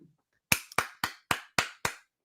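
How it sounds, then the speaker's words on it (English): A single person clapping, six sharp, evenly spaced claps close to the microphone in a quiet room, each one ringing briefly before the next. "The self round of applause."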